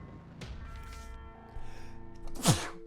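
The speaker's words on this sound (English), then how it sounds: "that was a good sneeze" A single sharp sneeze bursts out near the end after a short quiet intake of breath, loud and close.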